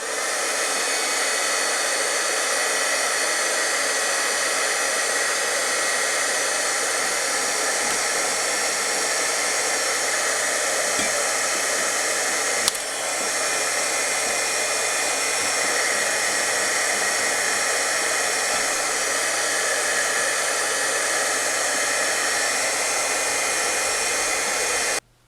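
A heat gun blows hot air to loosen old paint and glue while an antique dental cabinet is being restored, giving a loud, steady whooshing roar that runs for about 25 seconds without a break, close up and alone.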